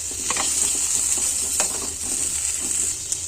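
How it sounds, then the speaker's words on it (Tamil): Cut mango pieces are stirred while frying in a pan, producing a steady sizzle with a bright hiss and soft scraping spoon strokes, occasional light clinks breaking through. "கட் பண்ணியிருக்க மேங்கோ பீசஸ் நல்லா மிக்ஸ் பண்ணி விட்டுக்கோங்க."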